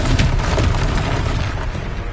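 Expelliarmus spell effect from Hogwarts Legacy, a dense loud burst of magical crackle and boom filling the whole moment, with no voice over it.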